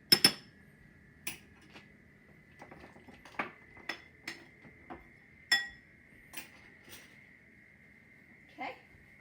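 A spoon stirs melted butter and chocolate in a bowl, making sparse, light clinks and scrapes against the bowl at an uneven pace in a quiet kitchen, with no voices.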